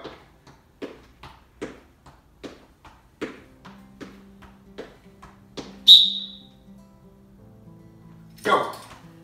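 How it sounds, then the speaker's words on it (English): A teacher gives one sharp, loud whistle blast midway through a children's soccer foot-skills warm-up in a school gym, heard over steady rhythmic taps of balls being touched with the toes. "When I blow the whistle, you're going to trap your ball with the bottom of your foot."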